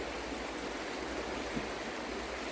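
The Marcola River at the Shotgun Recreational Area flows as a steady, even wash of water noise, moderately quiet and continuous, with no voices.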